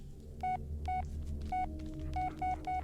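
Telephone keypad dialing in the Blair Witch video game: six distinct touch-tone beeps in an irregular rhythm over a low steady rumble and hum, with no talk.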